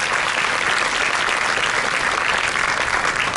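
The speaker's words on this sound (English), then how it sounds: "these kids deserve a big round of applause" An audience at a school blood donation camp applauds the kids, loud, dense clapping from a sizable crowd that stays steady and close for a few seconds.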